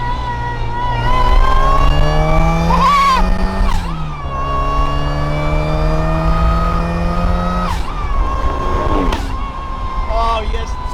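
Supercharged widebody Mazda MX5 MK2 engine revving hard and pulling through the gears, loud and close with rising pitch, brief drops between shifts and supercharger whine, while people talk over it.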